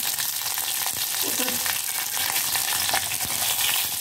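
Sliced mango, curry leaves and green chillies sizzle in hot oil in a pan, making a steady, moderately loud frying crackle with faint stirring scrapes and no talking.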